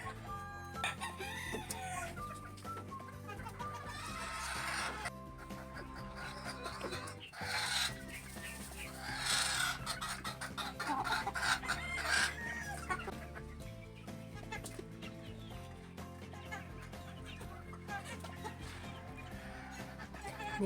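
Cockerels crowing and clucking in a range area, several birds calling over one another, with crows repeating and overlapping against steady background noise.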